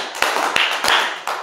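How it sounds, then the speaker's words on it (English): A congregation at a Sunday worship service gives a short round of applause: a few loud, sharp claps burst out in quick succession, close and uneven, over a brief moment. "So let's give them all a round of applause."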